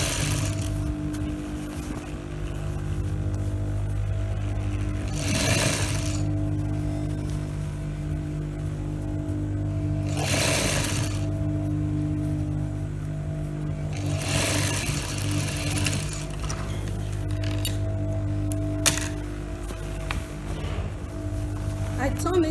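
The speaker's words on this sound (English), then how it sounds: "Here the sleeve is on top, and I'll sew it down to the armhole." A sewing machine stitches a sleeve onto a blouse armhole, its steady mechanical hum running throughout, broken by several brief louder bursts of rapid stitching.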